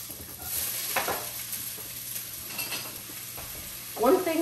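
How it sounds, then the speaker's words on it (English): Onions, carrots and celery sizzle steadily while sauteing in a pan for a cabbage soup, a continuous moderate crackle with occasional stirring scrapes and a louder burst near the end, no voices. "Oh, do you hear that sizzle?"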